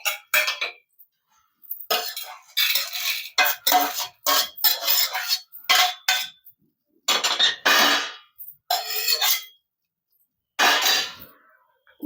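Freshly fried pieces lifted from a pan onto a plate while making a mango and moong dal microgreens chutney, giving bursts of clinking metal and ceramic utensil sounds in short separated clusters, close and fairly loud, with no talking.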